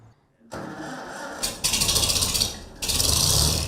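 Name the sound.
1954 International Super M tractor engine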